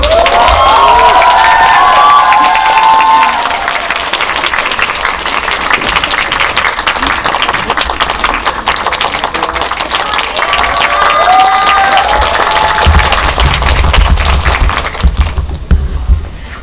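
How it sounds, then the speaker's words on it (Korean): A cinema audience at a film screening Q&A breaks into loud, sustained applause and cheering with shouts, dense and continuous for the whole stretch before easing off at the end. "큰 박수로 맞이해주세요."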